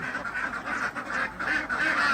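Laying ducks on a farm in Roi Et province, Thailand, quack in a steady run of overlapping calls that sound fairly close.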